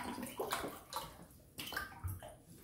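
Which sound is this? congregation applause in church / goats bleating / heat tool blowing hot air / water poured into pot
water poured into pot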